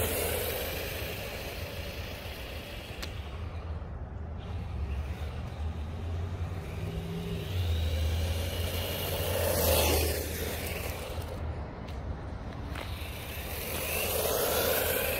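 A Hyper Go H16GT 1:16 remote control 4x4 truck drives outdoors, its small motor whining faintly and rising and falling in pitch against steady background noise, with no talking.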